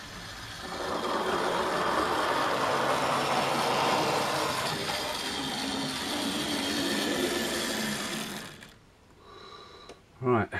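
Two Southern model locomotives run on a loft model railway layout, giving a steady, fairly quiet mechanical rumble for several seconds. It fades out, followed by a few brief small knocks.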